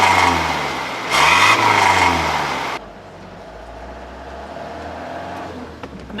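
A 1996 Toyota Dyna Tri-Cab truck engine runs steadily while driving, with a louder revving surge early on before settling into a lower, even drone.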